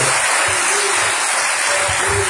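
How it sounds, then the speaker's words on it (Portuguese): A congregation at an evening church service claps loudly and steadily, a dense wash of many hands over a soft, sustained musical tone underneath, continuing throughout. "aplauso forte ao nosso Deus"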